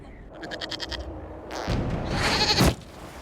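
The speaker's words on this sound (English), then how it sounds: "we discovered this man attacking the building with a goat" A goat in the video game Dragon Age: Inquisition, used by a man attacking a building, gives a short run of quavering bleats, followed by a louder burst of scraping, rushing noise.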